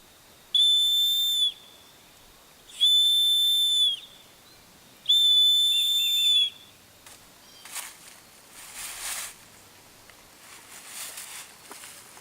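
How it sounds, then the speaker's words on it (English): Homemade survival bracelet whistle blown outdoors: three loud, steady shrill blasts of about a second each, evenly spaced, followed by fainter rustling and footstep-like noises. "I just used a survival bracelet I made that had a whistle"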